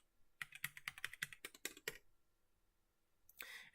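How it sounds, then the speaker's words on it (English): Password typed on a computer keyboard: a quick, close run of crisp keystroke clicks lasting about a second and a half, followed by quiet and a brief rustle at the end. "I'm going to enter my password."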